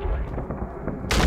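A gunpowder barrel is shot and bursts into a loud, broad blast near the end in Uncharted: Drake's Fortune, following a stretch of low, rumbling game ambience.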